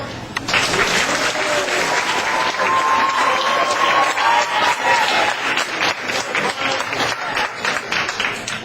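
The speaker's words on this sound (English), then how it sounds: "Alright, can everyone clap for our next performer," Audience at a poetry reading applauds steadily for the next performer, a loud, sustained burst of many hands clapping with a few faint voices underneath, tapering slightly toward the end.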